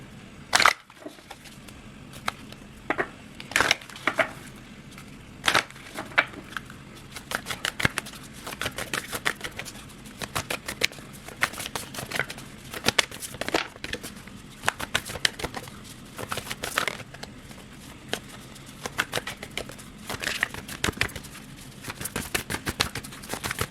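Close, crisp shuffling of a deck of Monology tarot cards, with repeated riffling and flicking, irregular taps and card slaps spread across a long quiet stretch.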